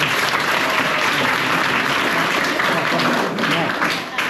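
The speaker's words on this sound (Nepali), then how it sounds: "उहाँको लागि एकचोटि सम्मानको लागि ताली बजाइदिनु" A school audience at Kankai Secondary School in Surunga, Jhapa, claps in honour of a teacher, dense loud applause sustained throughout and easing slightly at the end.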